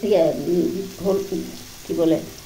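Dried prawn (chingri sutki) curry is stirred and fried in a pan, a soft sizzle beneath someone talking, with short bursts of scraping and frying between her words.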